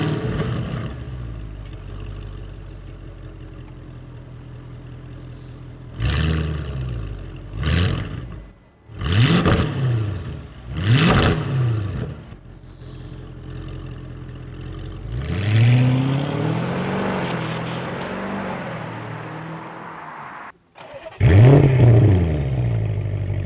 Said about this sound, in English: Just listen how it used to sound stock and how it sounds now with the custom exhaust mounted on.